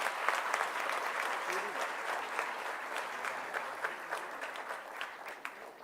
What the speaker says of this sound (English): May we have another big round of applause for Mr. Gautam Adani.